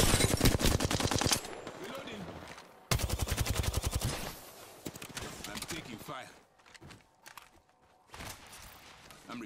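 Rapid automatic gunfire in the Apex Legends battle royale game, dense bursts of sharp shots with pauses and scattered single cracks, loud and close.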